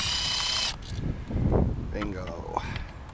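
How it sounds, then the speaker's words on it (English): A power tool spins out coil pack bolts on a BMW E39 engine: a brief loud whirring burst at the start, then quieter ratcheting and clattering handling noises with voices talking over them. "next thing we got to do now is get these coil packs unbolted off here."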